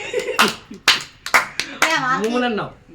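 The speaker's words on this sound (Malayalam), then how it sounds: "കൈയടിക്ക്." A few sharp hand claps ring out at home during a family game, scattered among a child's and adults' talking.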